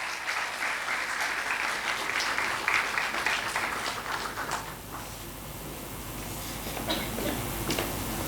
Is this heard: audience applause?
yes